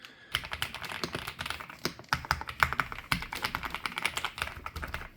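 Typing on an Epomaker TH99 mechanical keyboard with creamy jade switches: a close, continuous run of soft, deep keystrokes in an uneven rhythm, with no voices.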